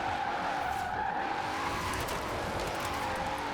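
Mercedes AMG GT tires skidding as the car slides in Forza Horizon 4, a steady close tire squeal over a broad engine roar that holds at a constant level without a break.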